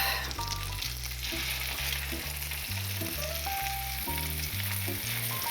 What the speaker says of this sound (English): I really want them to sear on the bottom side.